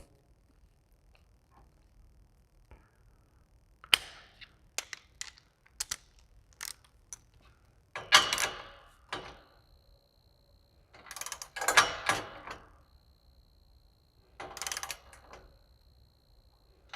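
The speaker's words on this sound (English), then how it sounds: "So I just snug it by hand, changing over to the torque wrench." A torque wrench clicks and ratchets while tightening bolts on an exhaust secondary cat delete kit fitted to an Aston Martin DB9, with sharp bursts of clicking in several separate groups against a quiet garage background.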